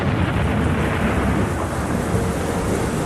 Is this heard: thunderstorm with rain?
yes